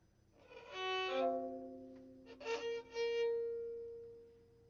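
A hundred-year-old violin sounding bowed open strings as if tuning before an orchestra plays, with two short, quiet phrases of sustained notes separated by a brief pause.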